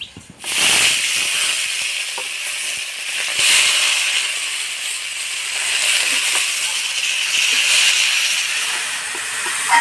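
Washed rice and lentils going into a hot pot of oil with bay leaf, five-spice and crushed ginger for khichdi, setting off a loud steady sizzling hiss that holds for several seconds after an opening burst.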